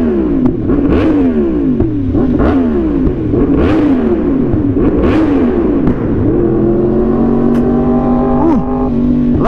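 A motorcycle engine revs loudly and close, rising and falling in repeated throttle blips before settling into a steadier high idle, with no voices over it.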